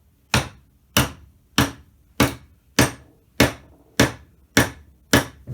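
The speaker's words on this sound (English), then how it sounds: "If I hit it with a chisel, you will see" Nine sharp, evenly spaced strikes of a chisel against a wooden sculpture resting on a workbench, each a loud close knock with a short ringing decay, roughly one every 0.6 seconds, with no talking.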